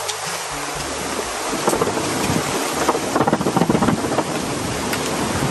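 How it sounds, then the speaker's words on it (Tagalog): Strong wind gusts roar and buffet the microphone at a riverside picnic, a continuous broad rushing noise that swells in the second half, with no talk. "Lakas ng hangin."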